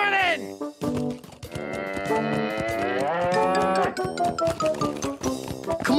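Racing yaks in an animated show bellow with long, drawn-out, loud moos in quick succession, some rising and bending in pitch, with bleat-like cries mixed in.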